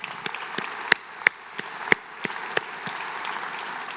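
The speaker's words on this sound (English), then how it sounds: "please join me in a round of applause for our sponsors" Sparse applause from an in-person conference audience, individual claps clearly separated with a few loud nearby hand claps over a thin background of clapping.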